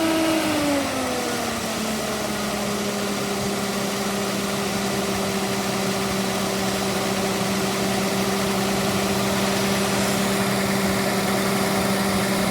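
A car engine settles from raised revs down to a steady idle, its tone dropping in the first seconds, then a constant close hum.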